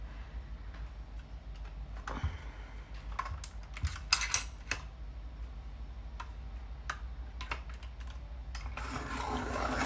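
Coloured pencils are sharpened in a Helix sharpener, heard as scattered dry clicks and scraping grinds, some faint and some sharper, with a steadier rasp building near the end.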